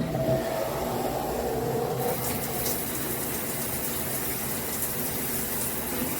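Water gushes steadily from a G-Promise all-metal 10-inch rainfall shower head with a handheld spray, a continuous loud hiss that swells as the flow starts and then keeps running evenly with no talking.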